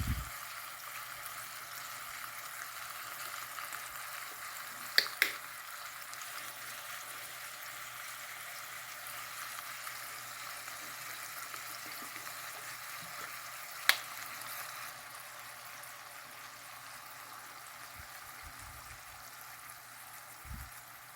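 A pork steak searing in a hot pan, giving a steady, quiet sizzle that holds throughout, with a few sharp clicks and taps near the start and middle.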